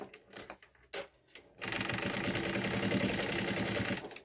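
A sewing machine stitches a backstitch on cotton washable wipes, starting with a few short separate bursts and then settling into a steady, loud, close mechanical whir and needle clatter, with no talking.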